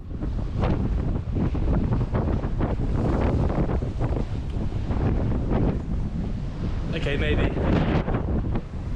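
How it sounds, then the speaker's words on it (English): Strong wind roars and buffets the microphone throughout aboard a boat, with water sloshing nearby and a brief spoken remark partway through. "it is a touch too windy."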